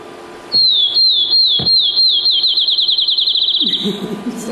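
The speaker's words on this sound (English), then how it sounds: "This is a field sparrow." Field sparrow singing its bouncy-ball song, a clear high whistled series of notes that starts slow and accelerates into a rapid trill, loud and close, with a brief low thump and faint background noise.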